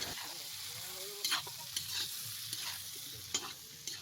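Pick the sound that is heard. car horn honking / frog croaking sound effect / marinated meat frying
marinated meat frying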